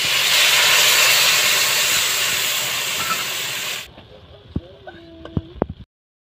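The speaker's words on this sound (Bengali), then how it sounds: "পেঁয়াজ আদা রসুনটা আমার ভাজা হয়ে গেছে, এরপর মশলাটা দিয়ে দেবো।" Frying pan of onion, ginger and garlic with spices sizzling loudly in a steady hiss for several seconds, then cutting off to quiet with a few sharp clinks and taps.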